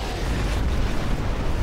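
Big explosion in the video game Crysis, a loud, dense, continuous roar of blast and rumble filling the whole short stretch without any talk.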